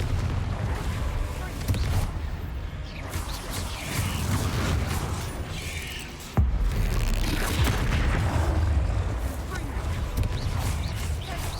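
Explosive spell blasts boom in the game Hogwarts Legacy, a heavy rumbling barrage of low blasts with one sharp crack midway, loud and sustained from start to finish.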